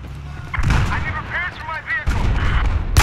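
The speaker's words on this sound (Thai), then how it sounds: "สนายยิงมา" Sniper rifle fire in a Battlefield 4 multiplayer match: loud, booming shots at the start and again near the end, while an excited voice shouts over the gunfire.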